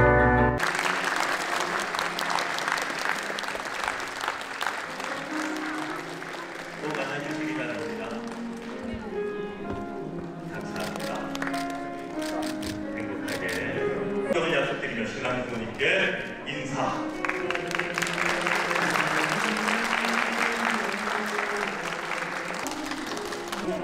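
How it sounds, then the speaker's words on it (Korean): Wedding guests at a Korean ceremony break into sustained applause that rises and falls over about twenty seconds, with an amplified voice speaking over the clapping and music underneath. "박수로 화답해 주시기 바랍니다."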